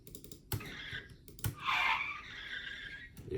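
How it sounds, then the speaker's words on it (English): A car skid sound effect cuts in with a harsh, screeching tire squeal that swells for about half a second and then trails off, set among sharp clicks and keyboard-like taps. "like a car like coming to a halt, to a stop or whatever"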